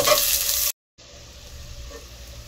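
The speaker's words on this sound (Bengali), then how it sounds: "পেঁয়াজটা একটু নাড়াচাড়া করে আমি ভেজে নিয়েছি।" Chopped onions sizzle loudly in a hot pan while being stirred, cutting out abruptly for a split second of silence before the frying resumes steadily, a little softer, with scraping stirs.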